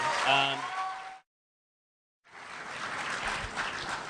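Comic-Con 2010 panel audience applauding, a broad wash of clapping resuming loudly after a short silent gap, with a voice briefly heard over the applause at the start.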